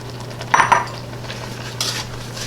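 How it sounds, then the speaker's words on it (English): Chopped dates and sugar stirred in a metal pot while making preserves, with a couple of close metallic clinks of the spoon against the pot and soft scraping over a steady low hum, no talking. "Give that a stir."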